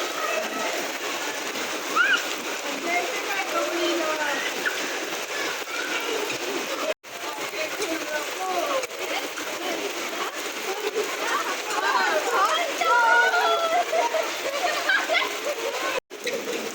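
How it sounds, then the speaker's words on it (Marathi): Heavy monsoon rain in Pune falls as a continuous dense hiss and patter, steady and fairly loud throughout, with faint bird calls and occasional splashes in the background. "आता खूप मोठा पाऊस यायला लागलाय."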